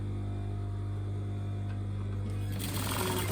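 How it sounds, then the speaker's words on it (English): A sewing machine stitching along the overlocked hem of a fitted pencil skirt, a steady droning motor hum with a fast even stitching rhythm that turns brighter and rougher toward the end, close and continuous. "stitch on the outside of the overlocking once again, and then back tack on the end."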